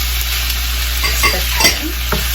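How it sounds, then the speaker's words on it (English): Cooked shrimp sizzle and fry in a hot pan for Filipino pancit canton noodles, with a steady close hiss and a few scraping stirs of a utensil against the pan, no voices. "And then we are adding some shrimp."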